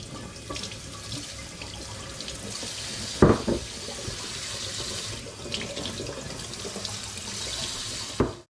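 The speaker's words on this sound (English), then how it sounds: "I've now got an awful lot of sticky bottles which I need to rinse off and let them dry them off" Sticky beer bottles are rinsed under a running kitchen tap in a steady, close splashing stream, broken by a couple of hollow glass clunks as the bottles are handled.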